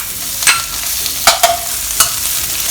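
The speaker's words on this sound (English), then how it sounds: "I just love the clank clank clank sound coming." Metal spatula clanks against a wok while stir-frying dried shrimp for chilli tofu prawns, with a few sharp, ringing strikes spaced apart over a steady sizzle.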